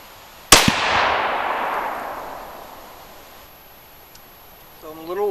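A single sharp, loud 22 Creedmoor rifle shot firing an 80gn ELD-M bullet cracks close by, then booms and echoes away over several seconds, with a voice starting to speak at the end.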